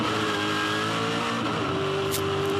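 2006 Supercars V8 race cars accelerate flat out down the back straight at a Tasmania race, a loud, continuous engine roar with climbing pitch and a brief shift mid-run.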